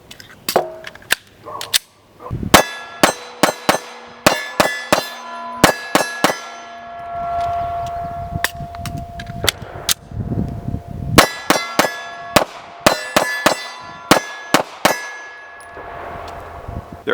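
An HK VP9SK 9mm pistol's magazine is released from the trigger-guard release and drops free, giving a run of sharp metallic clacks and ringing clangs at an uneven rhythm, loud and close, with no voices.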